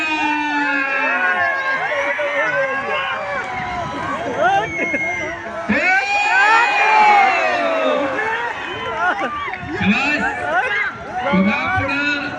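A crowd cheers and shouts during a kusti wrestling match in Bhosari, Pune, with loud, sustained, excited voices and a busy roar, a few near shouts standing out over the dense noise.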